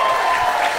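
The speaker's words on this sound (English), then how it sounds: "Clap it up one more time for Grace and Bob." A stand-up comedy audience claps and cheers for performers, a brief, loud burst of dense applause filling the room with no gaps.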